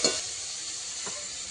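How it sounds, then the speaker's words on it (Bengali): Chopped carrots fry in a pan with a constant fine hiss and sizzle, a light scrape of stirring at the start and another soft knock about a second in. "আর এখন কিন্তু কুচোনো গাজরটা ভাজা চলছে"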